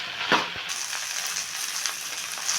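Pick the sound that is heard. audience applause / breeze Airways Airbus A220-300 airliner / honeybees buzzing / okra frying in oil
okra frying in oil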